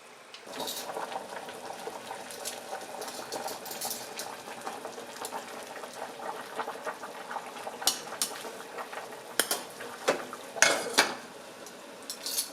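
Pasta boils in a pot of salted water with oil, a soft steady bubbling bed broken by clinking, clattering pot and utensil knocks that grow louder and more frequent toward the end.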